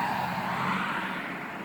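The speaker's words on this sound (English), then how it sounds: "there's a lot of traffic passing by, so you might hear some of the noise in the background" Steady traffic noise beside a bus stop, a continuous broadband road roar from passing cars that swells slightly and stays constant in the background, with no talking.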